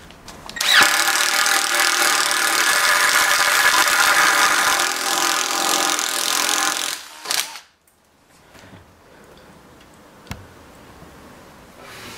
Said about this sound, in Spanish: es un atornillador, pero vamos a ver si se puede aventar esta perforación de 5 octavos